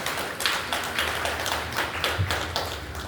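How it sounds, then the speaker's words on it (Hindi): Audience clapping in welcome of guests at a regional convention in Haridwar's SIDCUL, a steady dense patter of many hands with no talk over it. "मैं चाहूँगा कि उनके लिए भी आप तालियों से"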